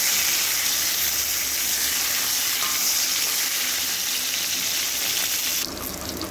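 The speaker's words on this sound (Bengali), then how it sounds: "সবগুলো পটলকেই একবারে দিয়ে দিলাম, দিয়ে একটু ভালো করে পটলগুলোকে ভেজে নিচ্ছি।" Pointed gourd (parwal) pieces frying in oil in a pan, a continuous loud close sizzle and hiss, with a clatter near the end.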